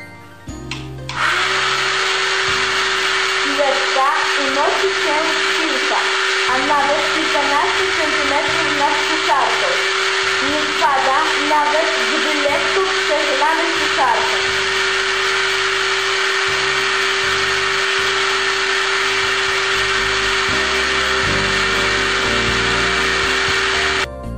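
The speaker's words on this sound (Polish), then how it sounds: "Włączamy suszarkę do włosów strumieniu wylatującego powietrza wkładamy piłeczkę ping-pongową" A hair dryer blows a steady, loud whirring stream of air with a ping-pong ball hovering in it during a physics demonstration, a constant motor hum with a faint fluttering rattle over the middle stretch.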